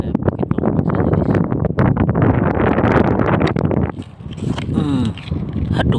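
Strong wind at sea during an octopus hunt buffets the microphone in loud, gusty rumbles, with splashing and a voice heard under the blustering noise.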